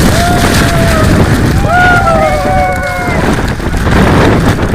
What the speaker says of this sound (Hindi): इतनी तेज हवा चल रही है कि अगर हल्के से में खड़ा हुआ आदमी तो गिर जाए।